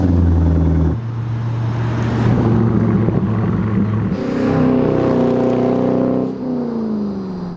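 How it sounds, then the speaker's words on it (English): A C5 Corvette with an aftermarket exhaust revs loudly up close, the engine note climbing and dropping in several distinct pulls with a raspy, droning tone and brief drops between revs. "you'll also want an aftermarket exhaust, so you can get a little bit more of stuff like this"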